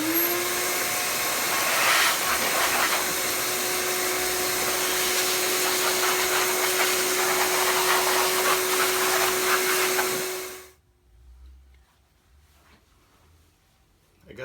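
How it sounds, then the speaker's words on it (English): A shop vac run in reverse blows air to clean out a 2009 iMac during a GPU repair, giving a loud steady whooshing roar with a constant whine for about ten seconds before it cuts off into near silence. "we can use the shop vac on reverse and give it a nice blast of some not so highly compressed air"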